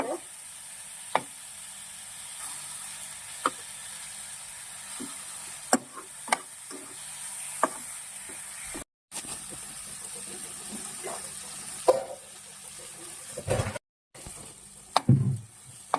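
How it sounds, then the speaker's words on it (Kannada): Tomatoes fry in oil in a pan for chicken curry, giving a steady, gentle sizzle. Occasional sharp clicks and scrapes from stirring break through it, and no one speaks. "ಟೊಮೆಟೊ ಎಲ್ಲ ಸಾಫ್ಟ್ ಆಗ್ಬೇಕು ಎಣ್ಣೆಲೆ ಸಾಫ್ಟ್ ಆದ್ರೆ ಚೆನ್ನಾಗಿರುತ್ತೆ"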